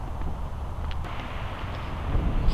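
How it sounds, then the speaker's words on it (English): Steady wind on a rainy day buffets an EKEN H5s Plus action camera microphone with a low rumbling roar, growing slightly stronger toward the end, with no voices. "It's a windy day"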